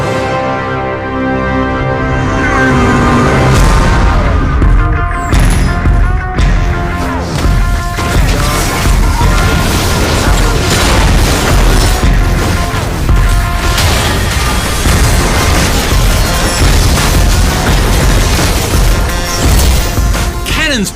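Booming cannon fire and crashing impacts from a League of Legends game trailer, loud and continuous, with blasts layered over a dense, driving musical score throughout.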